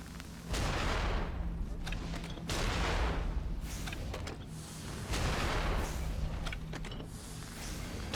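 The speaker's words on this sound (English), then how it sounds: "Maybe if I shoot it with a gun." Gunfire in the video game Nioh: several heavy, booming shots in bursts with sustained roaring noise between them, loud and close, without talking.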